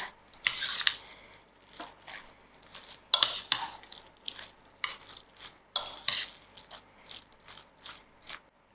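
Ground lamb for spicy homemade burgers is mixed in a bowl, giving repeated moist squelching and scraping strokes in an uneven rhythm, close and fairly quiet, with no talking.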